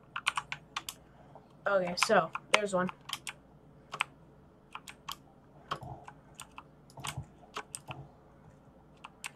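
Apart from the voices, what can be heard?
typing on a computer keyboard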